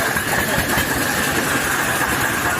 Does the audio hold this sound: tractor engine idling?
yes